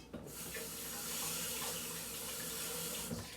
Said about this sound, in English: Rinse these off so we're not eating dirt, hopefully.